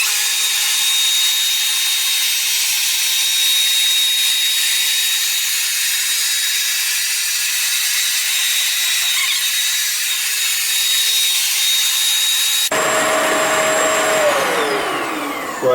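A Bissell ProHeat carpet cleaner making a wet pass over carpet gives a steady, loud whining motor drone with a high tonal whistle, ending in a sudden shift as the motor note drops and winds down.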